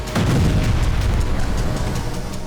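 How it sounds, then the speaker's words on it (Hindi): Explosions in Safed, Israel, during the Israel-Lebanon war: a deep boom erupts and rolls on as a heavy low rumble with scattered cracks, loud and continuous, no voices. "हिजबुल्लाह ने कई धमाके करके इजरायल के साफेद को भी दहला दिया।"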